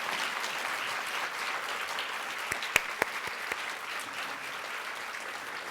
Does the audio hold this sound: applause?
yes